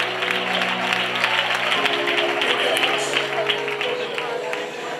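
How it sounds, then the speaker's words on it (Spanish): Church congregation applauding at a baptism service, a steady wash of clapping filling the room for several seconds, with voices and a held tone underneath. "¿Le pueden dar un aplauso al Señor en esta tarde?"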